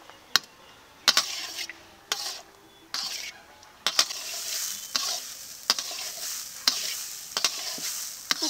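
Grated carrots for carrot halwa fry in a pan while a spatula strikes and scrapes the metal in a steady rhythm, about once a second. The crisp clacks sit over a soft sizzle that grows louder halfway through.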